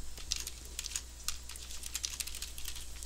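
Quick, light typing on a computer keyboard, a steady patter of soft clicks close by over faint background hum, with no voices.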